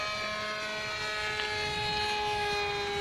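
Radio-controlled model airplane with a small engine flying overhead at an aeromodelling club field in Chania, a steady high whine with sustained tonal harmonics, fairly loud and continuous with no talk.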